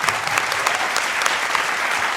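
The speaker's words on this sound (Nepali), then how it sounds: "एकचोटि प्लिज सन्चयको लागि जोरदार ताली" A studio audience at a televised dance competition claps loudly, with dense, sustained applause throughout and no voices standing out.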